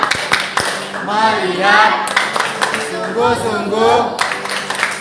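Rhythmic hand clapping of the Indonesian 'tepuk fokus' clap chant: a few quick, sharp claps at the start and brief bursts later, with spoken and chanted voices dominating between them.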